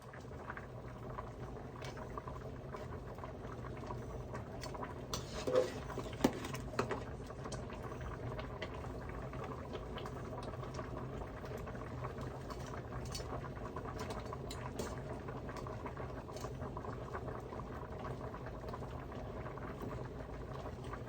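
A pot of Jaffna odiyal kool simmers and boils steadily, a continuous bubbling and hissing with occasional louder pops, close by and alone throughout.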